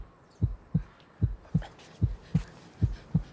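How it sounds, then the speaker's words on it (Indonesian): Heartbeat sound effect: eight deep, muffled thumps arriving in close lub-dub pairs at a steady, fairly quick pace, loud and alone with no voices. "Setiap manusia itu punya detak jantung"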